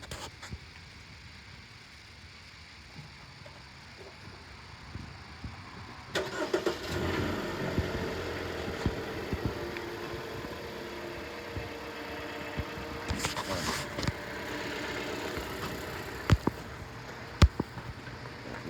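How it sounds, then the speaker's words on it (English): A Jeep Renegade cranks and fires up, its engine catching abruptly and settling into a steady mid-pitched idle, with a few clicks and knocks around it, recorded close from inside or beside the car. "I'll start the car"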